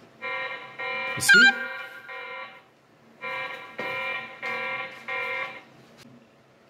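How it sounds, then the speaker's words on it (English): A Tapo C225 security camera sounds its motion alarm in loud, repeated buzzing bursts with short gaps between them, along with a sharp click or tap and brief talk. "camera alarm is dependent on the motion"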